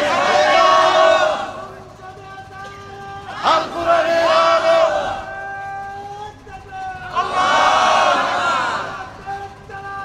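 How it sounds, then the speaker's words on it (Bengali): A crowd at a political rally chants slogans in loud, rhythmic waves of massed voices, three big surges with brief lulls between them. "একটু গলা ছেড়ে স্লোগান দেন তো, দেন। স্লোগান দেন, স্লোগান দেন।"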